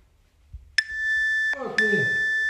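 A workout interval timer in a home exercise session sounds a sustained electronic beep. It cuts off briefly, then resumes as a second long tone. A short voice-like burst comes in between.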